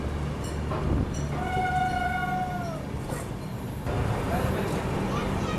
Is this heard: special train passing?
yes